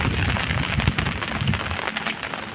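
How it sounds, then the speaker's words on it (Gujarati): Heavy rain pours steadily in flooded farm fields around a temple, a dense, loud wash of hiss and pattering with no pauses. "જુઓ ભારે વરસાદ ચાલુ છે"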